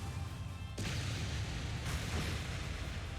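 Flare bomb explosion in the video game Trails of Cold Steel, a sudden loud burst followed by a sustained roaring blast with a second swell, dense and close.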